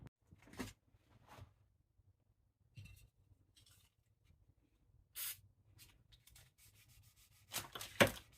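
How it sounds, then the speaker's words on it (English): A motorcycle fork tube being hand-sanded with 1000 grit paper, brief faint rubbing strokes separated by long quiet gaps, close and soft. "I'm going to get some sandpaper and start sanding it."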